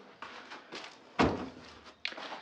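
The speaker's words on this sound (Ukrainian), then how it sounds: "Я тут також закриваю двері" Interior door in a summer kitchen being closed, a soft rustle and creak followed by one clear thud of the door shutting, then a lighter knock-like click, close and fairly quiet.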